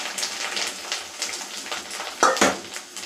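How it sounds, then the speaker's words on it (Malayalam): Grated coconut roasting in a pan, a soft continuous sizzle with occasional stirring scrapes and a clear metallic clink near the end. "നമുക്ക് ഇനി അതിലേക്ക് തേങ്ങ ഇട്ട് കൊടുക്കാം."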